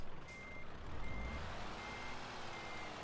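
Steady, evenly spaced reversing beeps sound from a truck backing up in Euro Truck Simulator, over a low engine rumble with no voices.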